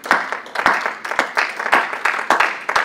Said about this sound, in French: Et j'ai envie d'applaudir le Seigneur.